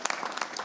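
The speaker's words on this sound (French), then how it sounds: "Je pense qu'on peut l'applaudir très fort." Applause from an audience at a youth day broadcast event: brief, fairly faint clapping in a dense patter, cut short after under a second.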